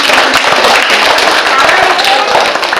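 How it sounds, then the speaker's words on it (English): A live audience at an animal show gives a round of applause: loud, dense, close clapping runs the full stretch, with a voice over it. "Everybody give a big round of applause."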